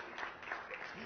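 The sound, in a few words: church congregation applauding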